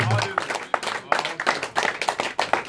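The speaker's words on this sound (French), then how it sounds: "Nous acclamons très fort," A church congregation bursts into rhythmic clapping with cheers, loud and close, the claps falling in quick uneven bursts amid voices.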